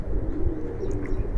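A female Giribaz pigeon gives a low, throaty coo, close and continuous over a short stretch, with no talking.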